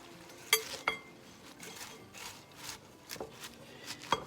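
Chicken salad ingredients for a Chinese chicken salad mixed in a bowl, with soft rubbing and stirring sounds and a few light clinks of a utensil against the bowl, close and fairly quiet.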